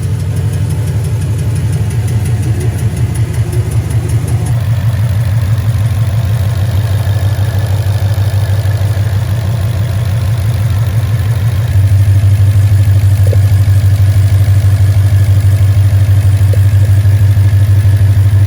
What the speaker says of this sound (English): It did quiet my engine noise down just like a little smidgen